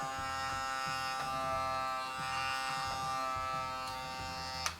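The small suction pump of a Ryobi Air Grip compact laser level buzzes steadily and close for several seconds, ending with a faint click.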